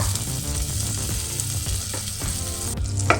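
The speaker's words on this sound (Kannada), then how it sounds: "ಪ್ಯಾನಿಗೆ ನಾನು ಸ್ವಲ್ಪ ಬೆಣ್ಣೆ ಹಾಕ್ಕೋತಾ ಇದ್ದೀನಿ" Butter sizzles and crackles steadily in a hot pan, a dense, continuous frying hiss heard up close with faint stirring scrapes and no talking.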